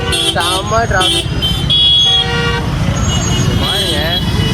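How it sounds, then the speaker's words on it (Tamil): Heavy road traffic at the entrance to Delhi's Red Fort, with loud, repeated car horn toots in quick bursts over a dense engine rumble and a voice talking close by. "செம்ம டிராஃபிக்"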